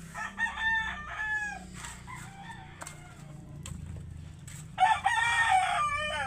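Several backyard roosters crow loudly, two long calls standing out near the start and end, with chickens clucking and shuffling in the background.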